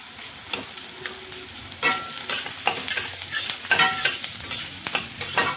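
Garlic and coconut paste sautés with softened onion in a pan, close crackling sizzle broken by several sharp stirring scrapes and clatters, no one speaking.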